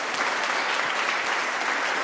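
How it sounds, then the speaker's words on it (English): An audience applauds panel members at a higher-education panel discussion, dense even clapping filling the room loudly and without pause. "I want a warm applause for the panel members."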